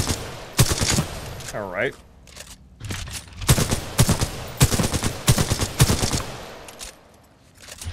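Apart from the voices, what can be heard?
gunfire from a long-range weapon in the video game Titanfall 2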